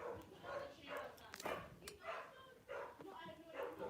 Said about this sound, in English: Sorry if you hear my dog barking in the back.